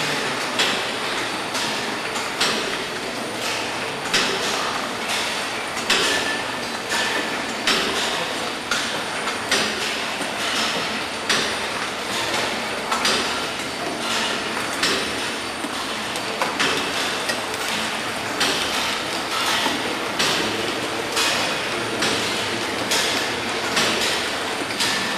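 Poultry Tech Maestro evisceration line running in a processing plant, a continuous dense mechanical clatter with rapid rhythmic clicking and metallic rattling, steady and loud with no pauses.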